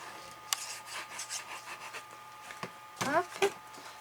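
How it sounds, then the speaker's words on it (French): An eraser rubs pencil writing off a card in quick, soft scratchy strokes, close and fairly quiet, with a brief burst of harder rubbing near the end. "Alors là je vais gommer parce qu'on va voir."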